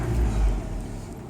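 An old manual-transmission car's engine rumbles low and steady as the driver gives more gas, loud and close, with no voice over it.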